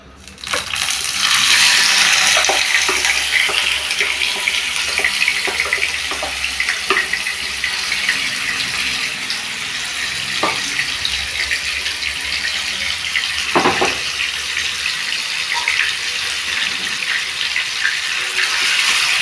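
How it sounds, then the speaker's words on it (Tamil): Marinated chicken goes into hot oil in a kadai and fries with a loud, steady, broadband sizzle and crackle that continues throughout, with no talking. "இப்போ எண்ணெய் காஞ்சதும் கடாயில் போட்டுக்கிறோம்."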